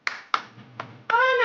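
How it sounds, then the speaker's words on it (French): A few hands clap at an event, three sharp separate claps close by followed by a brief burst of more clapping as others join in. "Pour Bidjang, on applaudit."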